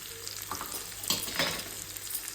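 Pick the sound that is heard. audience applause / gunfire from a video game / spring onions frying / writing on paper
spring onions frying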